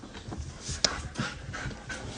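A dog pants in quick, close breaths with a brief whimper partway through, heard alone without talk.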